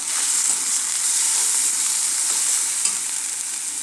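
Tilapia fish sautéing in a pan with turmeric and salt masala gives a steady, close, bright sizzle with continuous frying hiss and no pauses.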